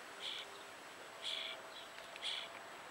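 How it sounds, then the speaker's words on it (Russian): Thin, high chirping calls of starling chicks in a nest hollow in a garden tree come in three short bursts, distant and faint over a steady outdoor hiss. "Если вам слышно, как там птенцы кричат."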